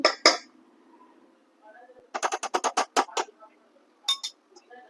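A spoon clinks against a bowl as chocolate is mixed for a dream cake: two quick taps, then a rapid run of about eight metallic clinks and a final pair, close and crisp, with someone talking in between.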